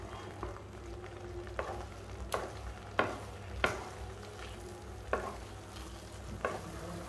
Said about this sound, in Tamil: கடாயில ஒட்டாம நல்லா சுருண்டு வர்ற அளவுக்கு நம்ம கிளறி விட்டுக்கலாம் கை விடாம கிளறி விட்டுட்டே இருங்க